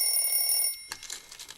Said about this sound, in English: Just set your alarm clock or your cell phone.